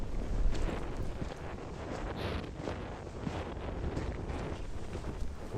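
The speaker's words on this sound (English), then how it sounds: "And it is a tad windy today." Wind gusts across an open hillside in Ayrshire, Scotland, buffeting the microphone with a constant, rough, rumbling roar and faint rustling, no talking.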